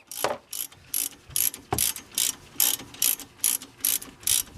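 A ratchet working the front brake caliper pins loose on a 2012 Fiat 500: about ten rapid, evenly spaced clicking bursts, close and fairly loud, with no talk.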